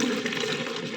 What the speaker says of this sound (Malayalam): അപ്പോൾ ഇനി നമ്മൾ ഇതിനകത്തോട്ട് വെള്ളം ഒഴിക്കണം